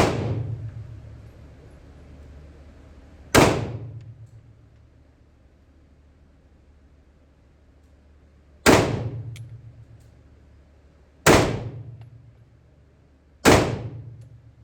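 Four sharp, loud pistol shots from a Springfield Hellcat fired at 15 yards with iron sights, spaced irregularly several seconds apart, each a hard crack with a short decaying ring.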